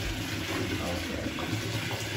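Bathwater in a tub during a bubble bath in a visitor bathroom, a steady close wash of sloshing and running water that fills the whole moment without a break.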